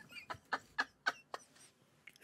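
A person imitates an eagle with a run of about five sharp, loud squawks close to the mic, spaced roughly evenly, followed by a softer trailing squawk.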